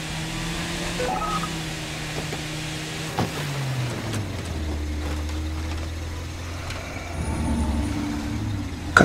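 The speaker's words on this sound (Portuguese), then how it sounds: "o carro já tá chiando, cara. Barulho de carro velho" An old car's engine in the State of Decay 2 video game, a steady droning hum whose pitch shifts up and down as it runs, with brief clicks and knocks layered over it and no speech.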